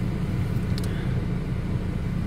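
A car engine idles as it warms up on a cold morning, giving a steady low rumble close by and alone, with one faint brief click partway through.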